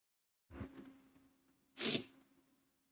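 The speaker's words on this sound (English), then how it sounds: "I gotta sneeze." A single loud sneeze, preceded by a short sharp inhale, close to the mic with quiet around it.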